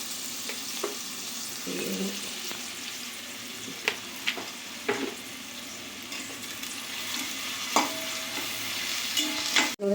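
Onions frying in oil with a little salt for coconut milk chicken curry, a low steady sizzle with a few spatula clicks and scrapes, close and quiet, with a sharp knock at the end.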